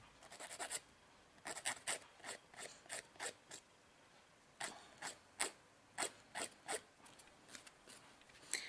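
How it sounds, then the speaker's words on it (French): A nail file rasps across fingernail tips in short rhythmic strokes, close and quiet, running in quick bursts with a brief pause partway through. "je prends ma lime comme ceci et je m'en vais limer le bout de mes ongles"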